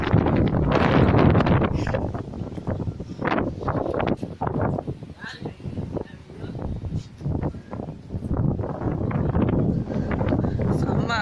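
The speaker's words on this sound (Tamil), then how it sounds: "செம்ம காத்து." Strong wind gusting through a garden, buffeting the microphone in loud, uneven rushes with brief lulls, a person talking intermittently over it.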